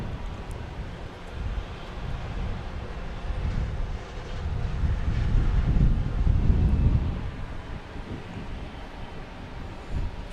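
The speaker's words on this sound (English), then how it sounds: "Let's look at the JetBlue and A321 coming in from London." A JetBlue Airbus A321 arriving from London and landing at Boston Logan Airport, a low broadband jet rumble that swells to a peak midway and then fades, with wind buffeting the microphone throughout.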